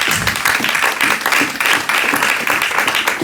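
A church congregation at a Sunday service applauds and acclaims the Lord, with a steady wash of clapping and cheering from many people throughout the short stretch.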